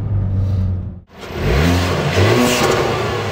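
A Hyundai i30 N hot hatch revs hard with its exhaust valves closed, a loud rising engine roar that dips briefly, then climbs again through a couple of strong pulls, heard up close from inside the cabin.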